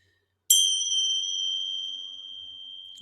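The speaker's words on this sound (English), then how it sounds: "So we'll begin with the bell." A meditation bell struck once at the start of a restorative yoga session, a bright single ding after a moment of silence, ringing out with a clear sustained tone that slowly decays in a quiet room.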